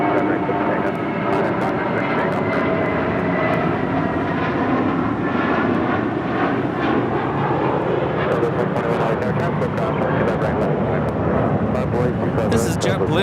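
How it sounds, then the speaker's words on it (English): A JetBlue Airbus A320 takes off from LAX with a loud, sustained broadband engine roar that holds steady throughout, and a voice speaks over it. "This is JetBlue 1570 taking off to Cancun on an A320"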